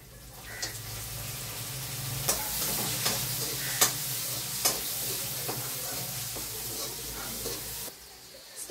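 Washed cashews are stirred into a sizzling kaju paneer curry, giving a steady frying hiss with several sharp clinks and scrapes of a spoon against the pan, close by, cutting off near the end.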